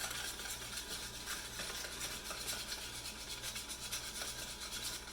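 Ingredients for a vegan French toast batter are shaken hard in a lidded jar, producing a steady, rapid swishing rattle that runs without pause, close and fairly loud, with no talking.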